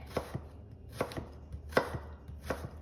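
A knife thinly slicing kohlrabi into matchsticks on a cutting board for a Brussels sprout and apple salad: four crisp, evenly spaced chops, each followed by a lighter tap, close and clear with no talking.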